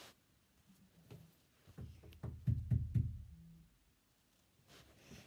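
Knocking on a house door: a quick run of close, firm knocks, loudest in a cluster near the middle, with a few lighter taps around them in an otherwise quiet room.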